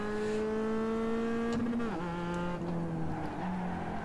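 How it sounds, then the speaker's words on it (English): A Mazda MX-5 convertible engine in the iRacing simulator revs hard and steadily near the limit, then its pitch drops sharply and settles lower, with a sustained loud drone throughout. "As I rag the engine again, this engine should blow up from this abuse I'm putting it through."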